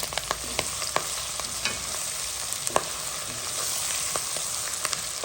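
Potatoes sizzle in a hot oiled pan as they are stirred, with a continuous frying hiss broken by light scraping clicks from the utensil, close and without talk.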